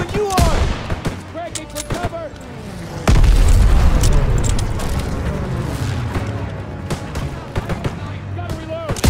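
Call of Duty WW2 battle gunfire: repeated close gunshots and deep booming blasts, with a heavy explosion partway through followed by a sustained rumble, while players talk over the combat.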